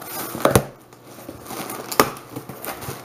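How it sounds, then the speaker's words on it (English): A mail swap package being opened gives crisp crinkling and tearing of paper or plastic wrapping, with two louder rips among softer rustling, close up and without talking. "And I'm just gonna open it up here."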